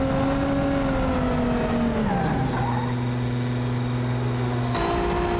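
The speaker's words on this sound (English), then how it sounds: "Alfie enters the pit lane behind Kimi" Onboard a Formula Three race car during practice at the Belgian Grand Prix, the engine whines steadily, then drops in pitch as the car slows into the pit lane and settles at a lower, limited drone.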